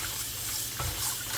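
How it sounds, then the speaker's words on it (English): Callaloo leaves held by the stem and rinsed under a running kitchen tap, a steady hiss of flowing water with splashy bursts as the greens are shaken beneath the stream. "we're gonna wash our callaloo under running water"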